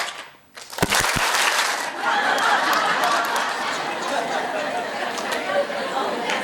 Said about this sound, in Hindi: क्लैप पे ताली बजानी है।